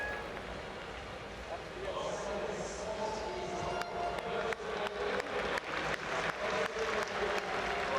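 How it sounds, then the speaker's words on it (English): Clapping rises from a crowd at the 2013 UCI World Track Championships velodrome as a Russian rider finishes her women's 500m time trial, sharp claps building into a steady round of applause under a commentator's voice. "Coach gives her a good round of applause there"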